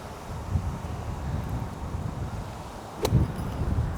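Strong wind gusting across an open golf course, a steady rushing buffet against the microphone with a sharper gust burst near the end, no voices.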